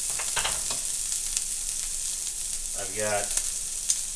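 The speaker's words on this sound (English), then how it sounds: "To this, I'm gonna add a little garlic." Garlic fries and gets stirred in a pan for picadillo, making a soft, continuous sizzle with occasional utensil taps, while a voice briefly speaks over it.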